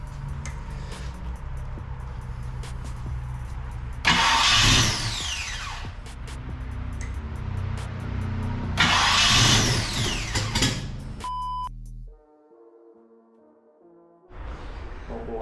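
A freshly built 306 HCI engine cranks and catches in two loud bursts of starting noise a few seconds apart, with a steady low rumble between them and a quiet gap with faint tones near the end.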